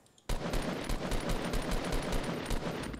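Automatic gunfire in the Fortnite battle royale video game bursts in suddenly after a brief quiet moment, a rapid rhythmic string of about a dozen loud shots over three seconds.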